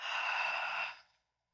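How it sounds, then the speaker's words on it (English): A single long, breathy exhale in a guided breathing exercise, close and steady for about a second before trailing off into silence. "we're going to breathe in and hold and big exhale"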